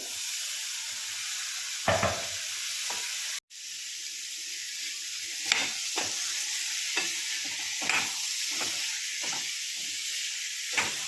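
Finely chopped, washed potatoes sauté in a pan with garam masala, giving an even, close sizzle and hiss, interrupted by one brief dropout and repeated light scrapes from stirring, with no voices.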